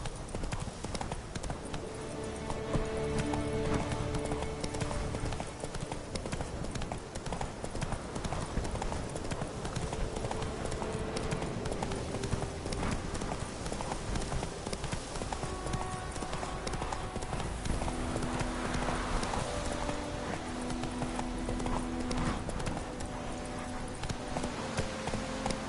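Hooves of Roach, the horse in The Witcher 3, clip-clop steadily at a gallop across the whole stretch, with game music and ambience layered underneath.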